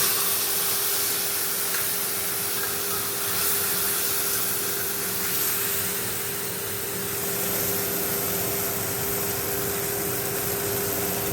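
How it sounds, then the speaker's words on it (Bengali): A spice mix poured into hot oil tempered with cumin and dried red chillies sizzles loudly and steadily, a dense continuous hiss that holds through the whole stretch. "এবারে এই মশলাটা ঢেলে দেবো।"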